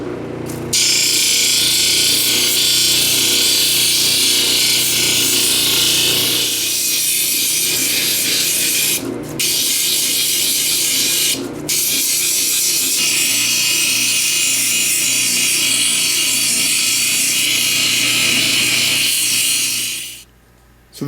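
Jasper or agate guitar pick pressed against spinning 1200 and 3000 grit lapidary polishing wheels, a loud continuous grinding hiss with two brief breaks, then a fade as the motor winds down.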